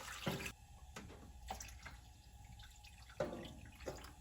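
Water splashing and trickling into a pan for a French-style cheesecake, soft and close, with a few louder splashes and drips along the way.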